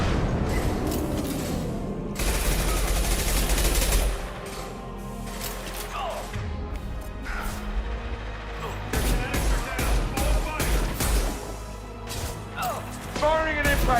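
Gunfire and impacts in the video game Mass Effect 2 on Insanity difficulty against Vorcha gangs: dense bursts of shots, booms and crashes over a combat soundtrack, with a voice speaking intermittently throughout.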